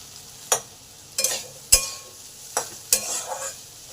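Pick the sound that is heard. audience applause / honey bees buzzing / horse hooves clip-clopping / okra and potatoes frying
okra and potatoes frying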